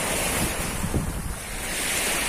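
Sea waves wash onto a shore in a continuous loud surge and hiss, with steady wind buffeting the microphone.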